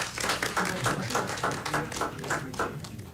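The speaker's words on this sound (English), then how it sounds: "We would like to give another round of applause to all of our everyday heroes." Scattered, fairly close clapping from a small audience at a school board meeting honouring everyday heroes, individual claps distinct and uneven in rhythm over about three seconds.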